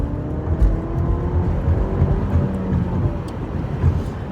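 A Cadillac with a 4-cylinder engine pulls hard in sport mode, giving a steady low engine drone with road rumble that stays fairly loud and even, with no voices.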